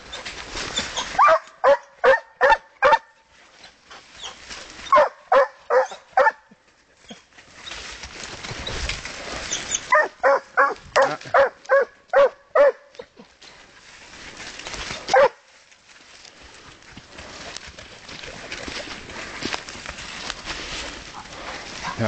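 Griffon Nivernais scent hounds barking outdoors, repeated bursts of loud, rhythmic bays in quick runs separated by short pauses, with one lone bark near the end and quiet surroundings afterward.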